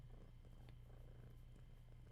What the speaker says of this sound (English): go purr into the microphone